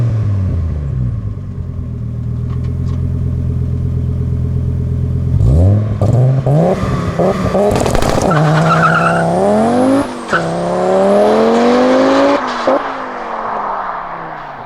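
A 700+ horsepower Audi S4 C4 with a 2.2 litre 20-valve turbocharged quattro setup and BorgWarner S258SX-R turbo idles loudly, then launches hard at a drag race, engine revving and rising through gears with tire noise, close and loud.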